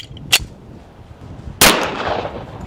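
A .45 ACP handgun fires at a 150 lb slam ball outdoors: a faint, short crack, then after a pause a loud, sharp report that rings out and decays over a second, with no talk.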